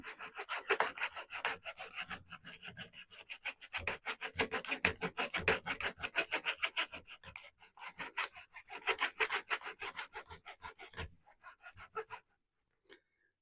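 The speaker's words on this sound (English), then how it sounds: "this will cut fiberglass sleeper" A small hand saw cutting through a fiberglass model railway sleeper, with rapid rhythmic back-and-forth rasping strokes for about twelve seconds, close and fairly quiet, ending with a single light tap.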